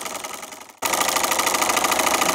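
A sewing machine is driven fast: after a brief quieter hum it kicks in abruptly to a loud, dense, rapidly pulsing mechanical rattle that holds steady to the end, with no voices.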